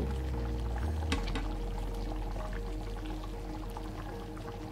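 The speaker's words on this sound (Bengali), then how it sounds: "আমি গরম জলটা ঢেলে দিলাম।" Hot water poured into a pot of Bengali-style mutton curry makes a continuous close gush and bubbling splash that slowly fades, with no talk.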